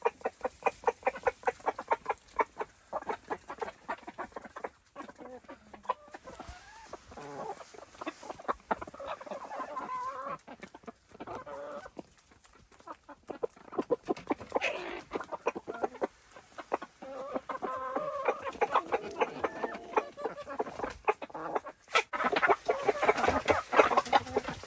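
Chickens cluck repeatedly in rapid, uneven bursts, with a rooster's low calls mixed in, close and fairly loud throughout.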